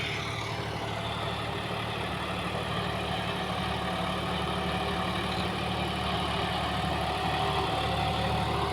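A John Deere 5210 4x4 tractor engine runs at a steady rpm in a field, a continuous, even diesel drone with a faint knocking texture and no break in level.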